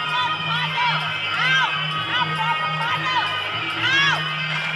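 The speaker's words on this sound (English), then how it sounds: "You hear the crowd getting into this one." Spectators at a Muay Thai fight in Perth roar and shout continuously, with rising whoops and whistle-like yells over a steady hum, the noise swelling and dipping throughout.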